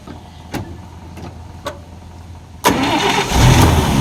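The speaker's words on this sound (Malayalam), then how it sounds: "ഇനി ഒന്ന് സ്റ്റാർട്ടാക്കണിക്കാവോ ആ സൗണ്ട് ഒന്ന് കേൾക്കാം" A 1941 Chevrolet Fleetmaster engine turns over after a few faint clicks, catching with a sudden loud burst and settling into a steady, rumbling run close by.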